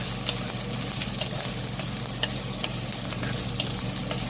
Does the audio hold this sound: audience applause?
no